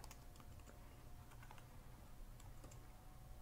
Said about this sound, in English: I'm gonna type an ampersand and show info